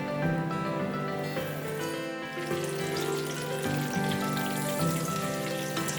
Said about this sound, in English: dip each prawn into the batter, one at a time, and gently add into the hot oil